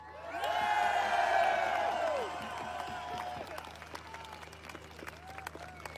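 An audience at a live speaking event in London bursts into loud applause with cheers and whoops for a speaker, then the clapping thins into scattered claps and crowd murmur.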